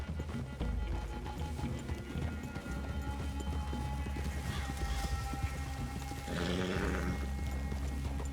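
Horses moving through a clearing in the game Red Dead Redemption 2, with steady clip-clop hoofbeats at a quiet level under ambient outdoor sound and occasional spoken voices.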